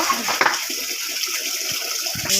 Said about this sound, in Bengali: মা যে হাড়িটা পরিষ্কার করছে বেচারাটাকে জল দেবে বলে দেখতেই পাচ্ছ